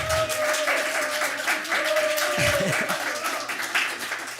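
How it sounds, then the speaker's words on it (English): An audience at a poetry night applauds, a full, steady round of clapping throughout, with a brief low voice and a faint tonal sound breaking in partway through. "let's give us as much applause as you can for just a minute"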